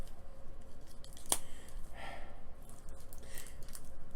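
Scissors cut board-game pieces for Forbidden Desert free from their cardboard sheet, giving one sharp close snip followed by softer rustling and cutting, with no speech.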